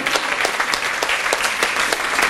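Audience applause at a musical battle at Les Atlantes in Les Sables-d'Olonne, a dense steady wash of many hands clapping, loud and sustained throughout with no talk.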